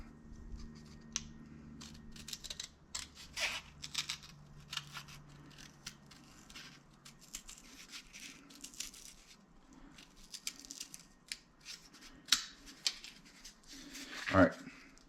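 Scissors cutting a cardboard template for a Baja Bug power steering upgrade, with quiet, irregular snips and crinkles close by, plus a sharp louder cut near the end, over a faint hum.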